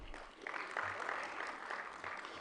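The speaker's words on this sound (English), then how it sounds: "So you can clap for the team." A room of people clapping for the team at a group event, steady moderate applause that swells slightly after the first half-second and holds evenly throughout.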